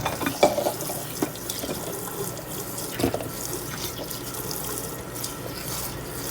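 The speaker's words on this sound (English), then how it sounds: "I'm going to rinse these under the tap a little more." Potatoes rinsed under a running kitchen tap, a steady close hiss of flowing water with splashes and occasional clunks in the sink, no talking.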